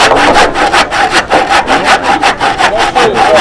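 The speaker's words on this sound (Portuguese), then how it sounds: "O serrote, ele corta para frente." A handsaw cuts through wood in a loud, rhythmic rasp of repeated strokes, roughly three per second, heard close up with no talk.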